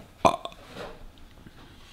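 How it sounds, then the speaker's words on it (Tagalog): A baby lets out one clear, close burp early on, followed by a softer little second one, with quiet room background afterward and no talking. "Sige na, burp ka na."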